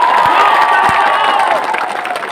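A crowd at a political joining program in Dhalai, Manikpur cheers and claps loudly as one continuous roar of voices and applause, fading slightly toward the end.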